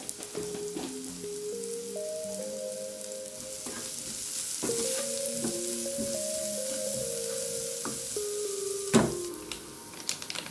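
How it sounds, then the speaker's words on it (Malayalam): Cumin and fennel seeds sizzle and crackle in hot oil in a pan, a steady frying hiss with occasional stirring scrapes, close and continuous with no talking. "കുറച്ച് ജീരകം ഇട്ട് കൊടുക്കുന്നുണ്ട് പെരുംജീരകം അതൊന്ന് വഴറ്റിയിട്ട് എടുക്കട്ടെ"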